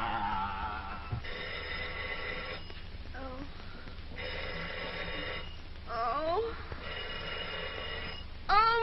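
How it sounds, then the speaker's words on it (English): An old-fashioned telephone bell rings in repeated bursts in a 1930s drama interior, fairly loud with pauses between rings, and a voice speaks briefly near the end. "make them stop ringing. That phone will break my head open."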